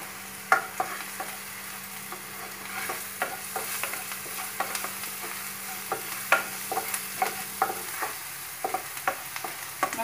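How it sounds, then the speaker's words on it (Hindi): Spices and turmeric frying in hot oil for kanda poha, a steady soft sizzle with frequent sharp scrapes and taps of a spoon stirring against the pan, no voices. "इसे एक मिनट और हम पका लेंगे हल्दी डालने के बाद, ताकि हल्दी का कच्चापन चला जाए।"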